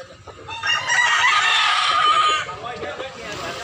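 A white rooster, about a year old and medium-sized, lets out a loud, drawn-out crow lasting roughly two seconds close by, with a quieter clucky tail and faint background voices.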